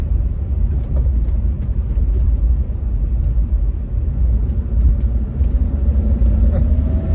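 A Land Rover Discovery driving on the road produces a continuous loud, low engine and road rumble heard from inside the cabin, steady for several seconds, with a faint rising whine toward the end.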